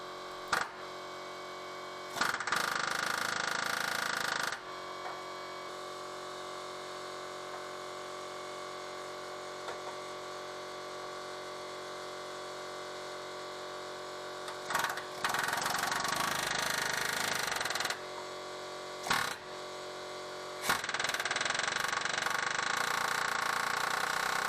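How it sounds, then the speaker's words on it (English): Several bursts of rapid pneumatic hammering, each lasting a few seconds, set solid aircraft rivets on a Land Rover Series 1, cutting in and out over a steady mechanical hum. "Then I could rivet it back on using the solid aircraft rivets and the pneumatic hammer."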